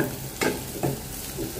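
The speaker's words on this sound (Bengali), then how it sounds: "আলু আর একটু মটরশুঁটি একটু ভেজে নিচ্ছি।" Potatoes and green peas fry in a pan with a close, constant sizzle, broken by three quick stirring scrapes roughly every half second.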